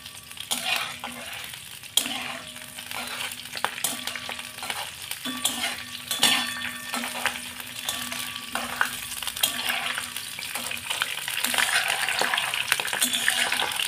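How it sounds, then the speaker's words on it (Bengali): Curry leaves sizzle and crackle in hot oil while coriander chutney is being made, with a steady frying hiss, sharp pops and intermittent stirring clatter across the whole stretch. "এই কারি পাতা দিলে খুব চটপট করে ফাটে"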